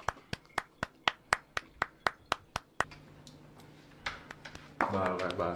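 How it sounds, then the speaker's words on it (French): Buttocks slap in a comedy sketch, about a dozen sharp, evenly spaced smacks in quick succession that sound like clapping. The slaps are followed by quieter voices and then louder talk. "il ne peut s'empêcher de claquer des fesses de manière aléatoire"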